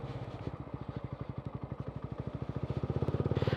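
A TVS Ronin motorcycle engine lugging at low revs in third gear without the clutch, a steady fast train of deep thumping pulses that grows slightly louder toward the end.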